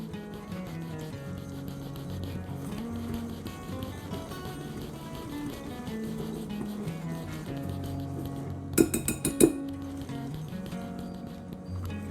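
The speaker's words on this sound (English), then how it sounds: "Now you want to whisk this together. You're looking for a paste texture." A paste mixture for a Runeberg torte is whisked in a bowl, soft rhythmic rubbing and scraping under quiet background music, with a brief louder burst of clattering strokes near the end.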